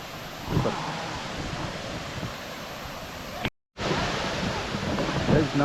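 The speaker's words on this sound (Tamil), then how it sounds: "இப்போ நல்லாவே தண்ணி விழுது." Masila waterfall in the Kolli Hills pours with a steady, broad rushing roar, mixed with wind buffeting the microphone, and the sound cuts out for a moment partway through.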